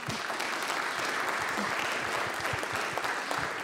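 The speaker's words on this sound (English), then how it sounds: "can I ask for a round of applause for Ravi" A conference audience at a congress on the death penalty gives a steady round of applause, fairly quiet and distant, dense clapping holding evenly with no talk over it.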